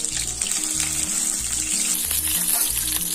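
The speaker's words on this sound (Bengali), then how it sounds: "পটলগুলো ভেজে নেব।" Cut pointed gourd (potol) fries in hot refined oil in a wok with a loud, continuous sizzle, and rhythmic stirring scrapes repeat throughout, close by.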